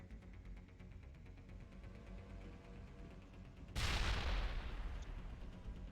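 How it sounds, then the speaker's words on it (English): Grenade explosion in Mass Effect 2, a sudden loud boom bursting out after a few seconds of low game hum, then a broad rumbling decay. "We'll let the grenade explode."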